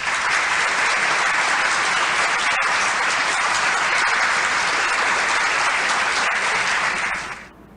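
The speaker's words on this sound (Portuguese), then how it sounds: "Com vocês e com muitos aplausos," Audience applause welcoming a capoeira master to a school talk, a loud, dense and continuous roar of clapping sustained for several seconds before cutting off abruptly at the end.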